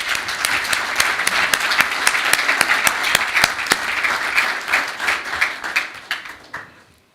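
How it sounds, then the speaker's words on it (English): A crowd at the World Boxing Congress in Rome, 2025, applauds with dense, lively clapping that holds steady for several seconds, then thins out and fades away. "if everybody can give him a big round of applause"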